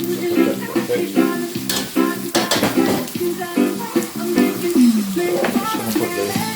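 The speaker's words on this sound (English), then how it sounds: "careful because this is pumping really, really pumping. Dangerous. Hot oil." Hot oil sizzles and spits loudly in a pan while a Jamaican jerk pork stew cooks, with steady frying hiss broken by sharp pops and the clink of a utensil against the pan.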